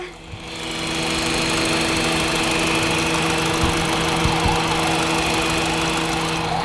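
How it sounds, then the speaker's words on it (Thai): A 2008 Honda Jazz 1.5 i-VTEC engine idles close by, a constant low hum with a faint mechanical rattle, running alone without any voices. "เดี๋ยวมาฟังเสียงเครื่องกันนะคะ"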